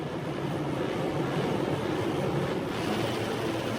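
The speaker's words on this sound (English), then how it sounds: "The revs rise, you can hear them in the background." Racing motorcycle engines rev together at a race start, a steady, dense drone holding at a distance with no voices.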